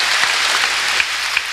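Congregation clapping during a Korean church sermon, a steady wash of hand claps filling the space without a break, with no talk over it.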